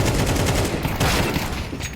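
Five-SeveN pistol fired up close in a Counter-Strike match on the Mirage map, a dense burst of rapid gunfire filling the whole short stretch at steady loudness.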